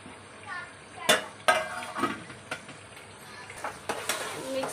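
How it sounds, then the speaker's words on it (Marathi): Sliced onions and a raw ground masala paste are stirred and roasted together in a pan, with a series of scraping clinks from the spoon against metal over a soft sizzle, while a person talks throughout. "कांद्यामध्येच हे कच्चं वाटप आहे ते टाकायचं आहे आपल्याला आणि दोन्ही चांगलं भाजून घ्यायचं आहे."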